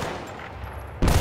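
Gunfire in the Battlefield Bad Company 2 video game: a sudden loud burst of shots at the end, following a dense low rumble of battlefield noise.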